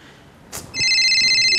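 A telephone in a Vietnamese Tet comedy sketch starts ringing loudly after a brief rustle and thump, its electronic trill continuing steadily to the end.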